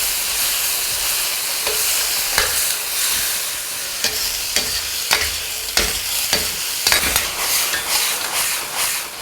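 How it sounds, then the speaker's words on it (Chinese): Ginger slices, scallion pieces and garlic stir-fried with a spoonful of red-oil chili bean paste and a splash of Huadiao wine in a wok over low heat: steady close sizzling with repeated sharp scrapes and clacks of the spatula throughout. "炒一炒。"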